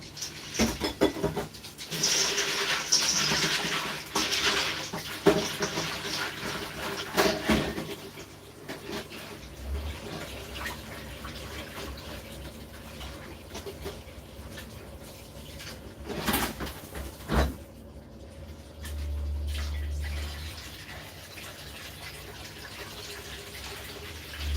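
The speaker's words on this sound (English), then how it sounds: "I'm going to add some water." Water is added to a cooking pot while Ghanaian dishes are prepared with peas and vegetables. Running and splashing water is mixed with cooing birds and intermittent clatter in the background.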